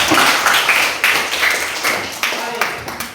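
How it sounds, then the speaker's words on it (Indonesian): A classroom of students applauds, a burst of hand clapping with repeated sharp claps that rise and fade in waves over a few seconds, moderately loud with no talking. "Oke, tepuk tangan dulu."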